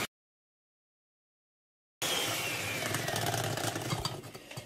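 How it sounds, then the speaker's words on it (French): After about two seconds of silence, an electric hand mixer whirs steadily and close while whisking mascarpone chocolate cake batter, a continuous buzzing drone with slight rattles. "Ensuite, je vais mélanger au fouet électrique."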